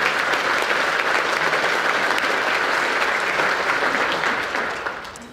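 Audience applause at a mayor's State of the City address: loud, dense, sustained clapping from a large crowd that holds steady, then tapers off at the end.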